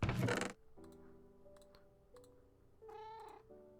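A cat meows a few times, short tonal cries spaced apart, close by after a brief burst of noise at the start.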